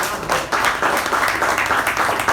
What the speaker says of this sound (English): what we do in Toastmasters is a thunderous round of applause in absentia